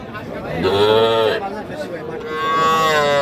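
Young bull calves at a busy cattle market, with two loud, close moos drawn out over a couple of seconds each, while people chatter in the background.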